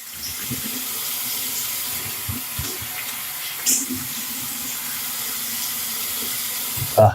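Water runs steadily from a tap as someone rinses off after a shave, a continuous soft splashing with a few small knocks and splashes, nearby and without talk.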